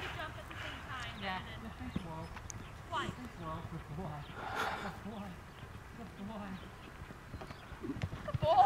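Horse hooves clip-clop in a steady rhythm as a rider takes the horse toward a jump in a riding arena, with people talking and cheering over the hoofbeats throughout.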